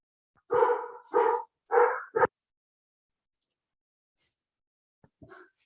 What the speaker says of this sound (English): sorry, dogs went crazy